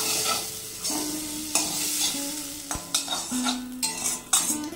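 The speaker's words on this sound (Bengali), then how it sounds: "গ্যাসের ফ্লেমটা লো করে হাতে একটু সময় নিয়ে আমরা ধীরে ধীরে ভেজে নেব" Pieces of ghatkol (giant taro) fry slowly over a low gas flame with green chillies, a soft constant sizzle under quick clinks and scrapes of a utensil stirring against the pan, close and without speech.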